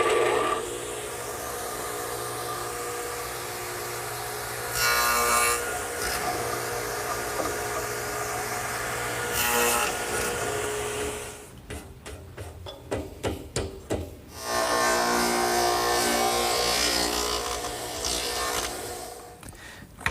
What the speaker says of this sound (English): the best way to remove the material to make the lap joint is to use the radial arm saw, which is set up with the stacked dado head cutter